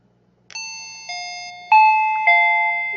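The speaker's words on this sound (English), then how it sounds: "And that's the doorbell." A wireless video doorbell chime rings out alone, four clear bell-like tones each struck and left to ring, the third loudest, close and loud in a quiet room.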